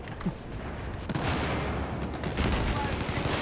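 Rapid gunfire in a shooter video game, bursts of automatic shots that intensify midway and continue densely to the end, loud and close, with a voice talking briefly over it.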